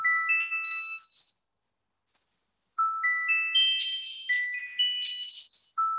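A melody sonified from protein molecular vibrations, arranged as a Beethoven tune: clean electronic tones stepping through short ascending and descending phrases, bright and chime-like, with a brief pause near the middle and no voices.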